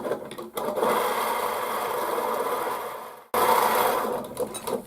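A sewing machine stitching quilt fabric, a close, steady mechanical whir that stops briefly then resumes, with soft fabric rubbing at the start and end and no talking.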